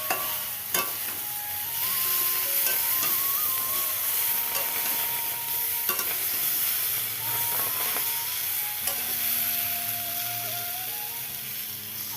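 Finely chopped bottle gourd frying in oil in a village kitchen, a continuous hissing sizzle with repeated scraping and clattering stirs from a spatula in the pan.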